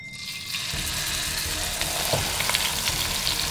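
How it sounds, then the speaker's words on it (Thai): A thick 1-kilogram tomahawk steak sizzles steadily in hot oil in a pan, a dense close crackling hiss with small pops, no voices. "น้ำมันตั้งกระทะแล้วเราก็จะเอาตัวเนื้อโทมาฮอคของเราที่น้ำหนัก1กิโล"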